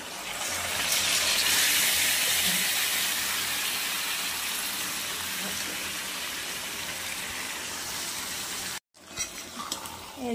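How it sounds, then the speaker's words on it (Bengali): Onions, whole spices and marinated mutton frying in a pan, giving a loud, steady sizzling hiss that fills most of the stretch, breaks off briefly near the end, then resumes with some clatter. "পুরো মশলা ভাজা চলছে"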